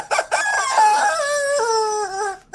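A rooster crows loudly in one long drawn-out cock-a-doodle-doo, with some brief clucking at the start, alone and close.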